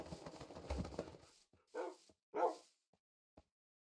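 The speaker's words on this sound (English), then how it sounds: "went back into range with the dogs!" Dogs bark in the Minecraft video game, a burst of overlapping barks followed by two distinct louder yaps, then a couple of faint clicks in near silence.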